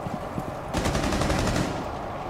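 Rapid automatic gunfire from Rainbow Six Siege, a dense burst of shots during a skyscraper team deathmatch, loud and continuous for over a second after a quieter stretch of game noise.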